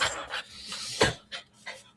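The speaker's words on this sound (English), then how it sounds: "he's sniffing around the table" A dog sniffs and pants around a table at home, quick bursts of breathy huffs and sniffs close to the microphone, irregular and fairly quiet.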